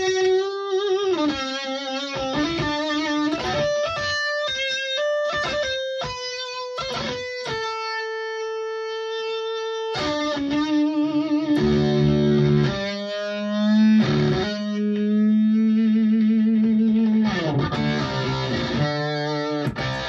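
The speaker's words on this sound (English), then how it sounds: "you get even more overdriven amplifier sound as opposed to a distortion pedal sound" An overdriven electric guitar plays gritty, sustained notes and bends, loud and saturated, with brief pauses between phrases.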